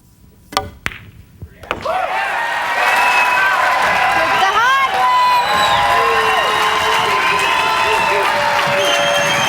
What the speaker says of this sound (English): You'll hear a roar from this crowd if this 9 ball goes in